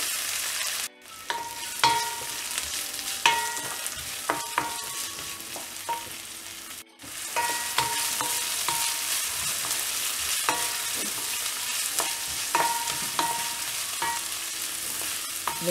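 Onions frying in oil after mustard seeds have popped, for a quail egg and prawn curry, a close sizzling hiss with frequent crisp spatula scrapes and taps on the pan, briefly cut twice, no talk.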